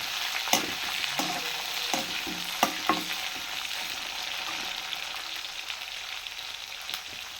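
Vegetables with green chillies crackle and sizzle in a hot pan while a spoon scrapes and stirs, a steady frying hiss punctuated by several sharp utensil knocks, close and with no talking.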